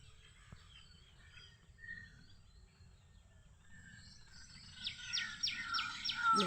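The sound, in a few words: white-breasted waterhen (dak pakhi) calling in rainy morning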